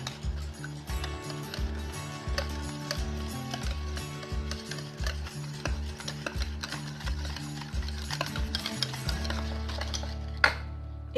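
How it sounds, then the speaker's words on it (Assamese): A chocolate cupcake batter with oil is beaten in a bowl, making a steady, rhythmic scraping and tapping that stays close. A short clatter comes near the end. "মই এতিয়া অলপ সময় ভালকৈ ফেটি ল'ম।"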